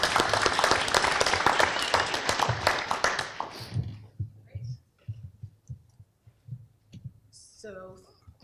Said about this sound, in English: A round of applause for Kim Milnes.